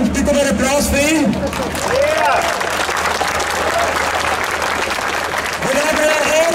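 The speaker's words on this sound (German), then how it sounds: "Ich bitte um einen Applaus für ihn." Dense outdoor applause from a large crowd at a street demonstration in Vienna, continuous and loud, with voices and shouts mixed in.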